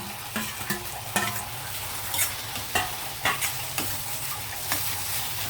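Tomatoes, green chillies and curry leaves sizzle in hot oil in a pan for a simple Andhra-style dried prawn dish, with repeated spoon stirring and scraping knocks over a steady frying hiss.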